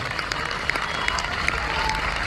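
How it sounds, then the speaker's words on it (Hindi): A school audience in Jhajjar claps loudly during a talk by a poet: a continuous, even wash of many hands clapping with a few sharper claps, sustained throughout. "इसलिए जोरदार तालियां उठते हुए देखना चाहता हूं।"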